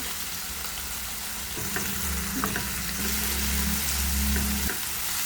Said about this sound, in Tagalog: Mix-mix natin tapos lagyan na natin ng pepper. Halu-haluin na natin.